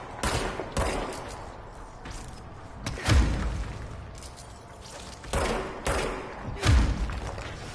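Gunfire in the video game Control: a series of heavy, booming shots spaced roughly a second apart, each with a thudding low end and brief decay, loud and close with no speech.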